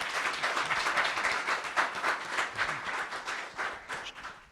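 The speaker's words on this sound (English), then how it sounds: "And we will take a round of applause on that" A conference audience at a blockchain summit claps steadily throughout, a dense wash of many hands that stays even in level and pulses slightly without fading.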